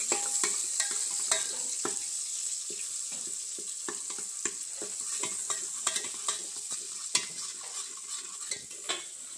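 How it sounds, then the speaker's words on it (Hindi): Vegetables being tempered sizzle steadily in a hot pan, with a spoon scraping and stirring in irregular bursts throughout. "ये सब्जी अभी छौंक रही है।"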